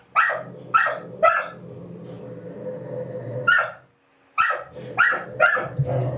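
Several neighborhood dogs bark in sharp, loud bursts close by: three quick barks, a steadier stretch of barking with a low background rumble, a brief pause, then another rapid volley of barks.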